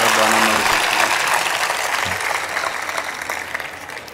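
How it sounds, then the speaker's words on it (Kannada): An audience at the Gavisiddeshwara temple fair breaks into loud, dense applause after a speech, strongest at the start and gradually thinning while a voice carries on over it. "ಆ ತಾಯಿಗೆ ಮತ್ತು ಆ ಕುಟುಂಬಕ್ಕೆ ತಮ್ಮದೊಂದು ಹೃದಯ ತುಪ್ಪಿ ಒಂದು ಚಪ್ಪಾಳೆ ತಟ್ಟಿ"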